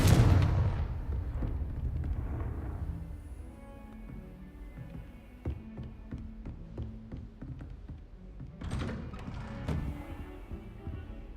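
A Confringo fire spell blast in Hogwarts Legacy bursts with a heavy, booming impact at the start, then gives way to scattered crackling taps and a second rushing flare near the end.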